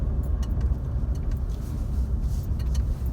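A car drives along with a steady, strong low engine and road rumble, some faint light rattles on top, close by and with no talk.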